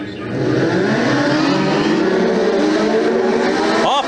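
Legend cars race along a speedway's front straightaway in Western Australia, a loud, continuous pack of engines roaring close by with rising revs, while a commentator talks over the noise.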